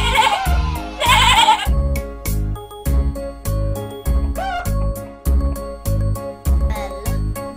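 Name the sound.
sheep bleating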